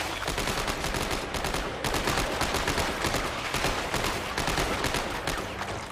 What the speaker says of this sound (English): Oh, he's shooting stuff at me.